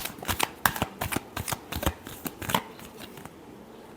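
Tarot cards being shuffled by hand: a rapid run of crisp riffling snaps and flutters, close and fairly loud, that thins out and stops toward the end.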